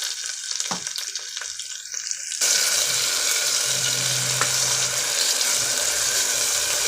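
A ground paste of coriander leaves, green chili and tomato is poured into a hot pan, setting off a sudden, steady sizzle after a couple of seconds of quieter clatter.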